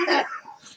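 A single short, harsh cough, close by, followed by a faint trailing breath.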